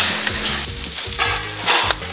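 Bacon and sausage fry in a home kitchen, giving a steady broadband sizzle with soft crackles and a few brief clatters. It stays close and fairly loud throughout, and nobody speaks.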